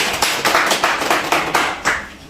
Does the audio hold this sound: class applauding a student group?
yes